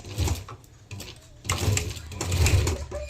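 A sewing machine stitches the inner part of a fabric pouch in bursts, its motor whirring loudly in two or three runs with short pauses between them, close by.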